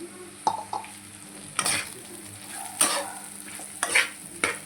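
Bitter gourd curry with garlic and chili powder being stirred in a pan, with scattered scraping clicks of the spoon over a soft sizzle of frying, close and fairly quiet with no talking.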